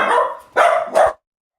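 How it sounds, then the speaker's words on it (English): A dog barks three times in quick succession, loud and close, then falls silent. "The dog is barking."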